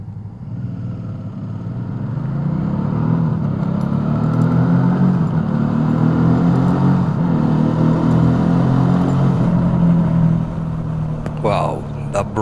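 Suzuki V-Strom fuel-injected motorcycle engine rumbling and revving up in a steady, swelling drone while riding, loud and close, with a rattling clink near the end.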